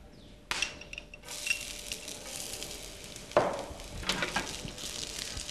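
Finely chopped garlic hits hot oil holding bay leaves and cloves, setting off a sudden bright sizzle that keeps crackling steadily, with a few spoon stirs and clinks on the pan.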